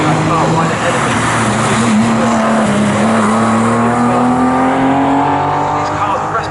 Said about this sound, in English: So the two cars just going around through Palmer now, as close as you can get for the lead of Restoracing